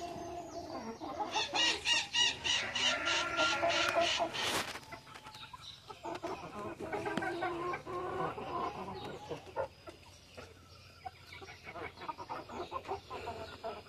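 Young hens bred as future breeding stock cluck and chatter as they pour out of their coop on a farm, a busy overlapping flock close by, with a brief louder burst partway through.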